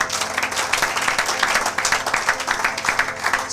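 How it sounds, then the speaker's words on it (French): A church congregation applauds together in a dense, continuous wash of clapping with rhythmic pulses, loud and close, with no clear voices above it. "Acclamez pour la gloire de notre Dieu"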